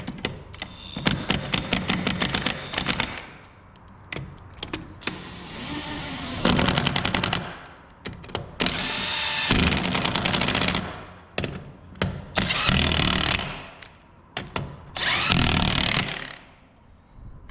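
A DeWalt impact wrench hammers on the wheel bolts of a John Deere Gator in loud, rapid rattling bursts, each lasting a second or two, repeated many times with short pauses between.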